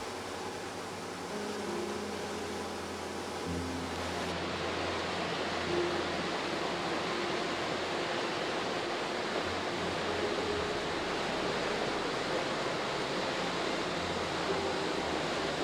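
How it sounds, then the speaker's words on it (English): Steady broadband rushing water from a waterfall at the entry to Endicott Arm, Southeast Alaska, passed by boat, a constant distant roar, unbroken for the whole stretch with a low engine-like hum underneath. "We pass by the entry waterfall"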